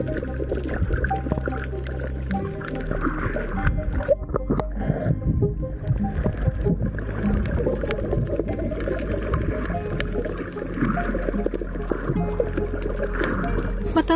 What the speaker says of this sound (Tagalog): muling umugong ang makina ng aming bangka